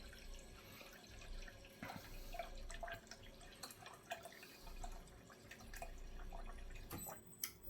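In a home tank farm simulator kit, chlorine injection drips into a tank as faint, irregular small plinks and splashes over a quiet watery background, very soft and close, with no talking.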